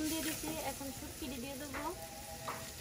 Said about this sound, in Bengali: আর এদিকে পেঁয়াজ আর রসুন ভাজা হচ্ছে